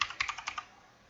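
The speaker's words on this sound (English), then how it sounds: "So I type this in" Keys on a computer keyboard clatter in a quick burst of about half a dozen close, crisp taps as C++ code is typed, then fall quiet.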